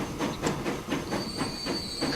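Stone train in the video game Transport Fever rolling along with a regular clickety-clack of wheels over rail joints, roughly four beats a second, plus a thin high squeal in the second half, close and alone.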